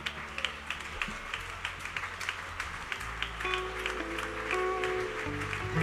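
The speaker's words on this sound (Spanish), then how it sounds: "Un aplauso al que vive" Steady crowd applause with scattered claps at a church youth service, while sustained musical tones play underneath throughout.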